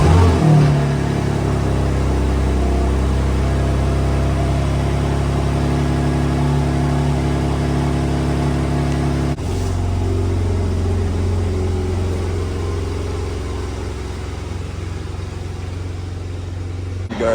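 A 700HP BMW M4 Competition drives on the road, its engine a loud, steady drone heard from inside the car that continues with a slight drop in level partway through, with no talking.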